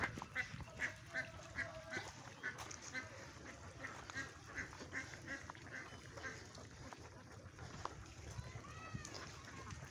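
Ducks and ducklings near a drying pond give repeated honking quacks at moderate distance, while a person talks over a noisy outdoor background.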